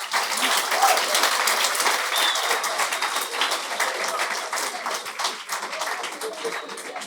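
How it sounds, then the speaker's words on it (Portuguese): Warm, sustained audience applause for a guest at a sports leadership event, dense clapping that holds steady and eases slightly toward the end. "Queria pedir mais um aplauso para a Margarida"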